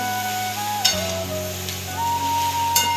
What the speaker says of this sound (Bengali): ক্যাপসিকাম দিয়ে একটা তরকারি করছি।